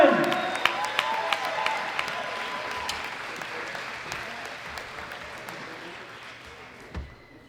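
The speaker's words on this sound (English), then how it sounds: "Big round of applause for Susan Elwin." Audience applause for a champion at a world classic powerlifting championship, starting loud with a few cheers and slowly thinning out, then fading off, with a voice briefly heard near the end.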